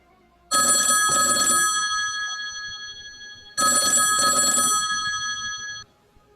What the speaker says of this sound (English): the telephone rang